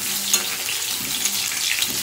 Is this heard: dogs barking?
no